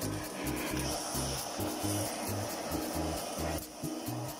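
A blowtorch sears steamed chicken and vegetables, making a steady, breathy roar of moderate loudness that continues throughout, with a low pulsing rhythm running beneath it.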